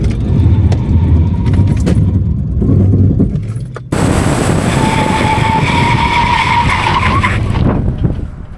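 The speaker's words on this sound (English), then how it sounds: "We're gonna do a 60 to 0 brake test." A Ford Maverick XL Hybrid truck brakes hard from 60 mph to a stop, its engine drone giving way to a loud, sustained tire skid and squeal that fades as the truck halts.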